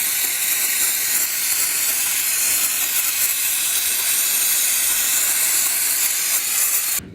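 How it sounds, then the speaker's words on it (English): Brake cleaner sprays from an aerosol can onto a manual window regulator in one loud, unbroken hiss lasting several seconds, close by, cutting off abruptly at the end. "So I'm just going to cake this in brake cleaner."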